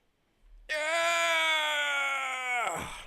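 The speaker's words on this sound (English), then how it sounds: "Maybe I've got an American yawn." A person lets out a long, loud voiced yawn lasting over two seconds, with a steady droning tone that falls away at the end, alone without other talk.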